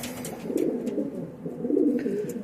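A pigeon coos close by in low, throaty rolling murmurs that swell and fade over a few seconds, with faint background noise.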